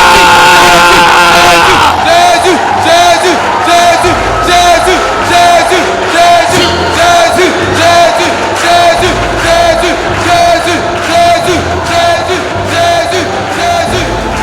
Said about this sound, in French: On acclame Jésus.